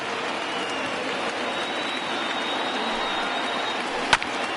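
Steady broadband roar of a large stadium crowd in a PS4 baseball game, over 37,000 fans rising to their feet, sustained and even throughout with a brief sharp knock near the end.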